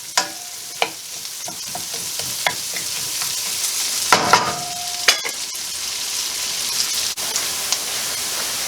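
A whole julienned onion sweating in a frying pan for beef stroganoff, a soft steady sizzle broken by sharp spatula taps and scrapes against the pan, near and moderately quiet, with no speech.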